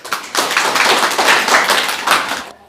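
Classroom students clap together in a loud, dense burst of applause lasting a couple of seconds, then stopping abruptly, with no talk over it.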